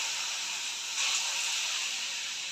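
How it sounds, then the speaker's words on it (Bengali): Pumpkin fritters (kumror chop) going into hot oil give a steady, close frying hiss, with a brief louder sizzle burst about a second in as a piece drops in; no voices. "এইভাবে তেলের মধ্যে ছেড়ে দিচ্ছি।"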